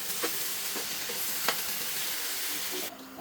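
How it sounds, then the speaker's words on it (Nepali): Soya chunks stirred and fried in a pan give a steady close sizzle, with a few scraping stirs of the spoon along the way; no one speaks. "अब स्वाबिन राखेर पराउनु परेको हुन्छ। अलिकति चलाउनु छ पराउनु।"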